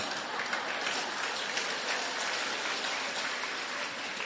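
An audience at a Lenten recollection claps together in a dense, even burst that runs for several seconds, a steady wash of many hands with no voices over it.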